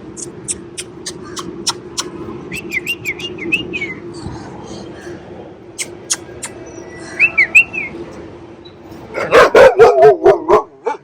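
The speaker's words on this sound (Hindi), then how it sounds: "देखो भौंक रही है" A Rottweiler barks and yips nearby in quick bursts, joined by high whistling squeals and bird-like chirps, growing louder toward the end.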